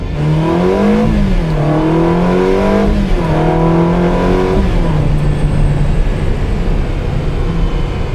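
A flood-salvaged Ferrari 360 revs hard and pulls away, its engine note climbing and falling through several loud, close sweeps before settling into a steadier drone as the car drives on.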